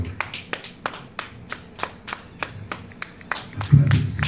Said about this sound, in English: Come on, clap your hands and give God glory.